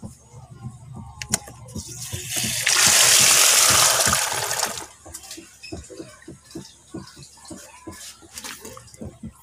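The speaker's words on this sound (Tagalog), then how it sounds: "Ayan, open na po yung pipe dito naman para lumabas yung tubig na nandito." Water from a pond drains out through an opened pipe beside a DIY bucket filter. A loud rushing gush surges for about two seconds amid scattered drips, clicks and handling noises.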